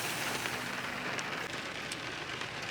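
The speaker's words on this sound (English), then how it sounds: "It is just raining so heavy." Steady, dense hiss of heavy rain pouring down on a surface, constant and close, with no voices.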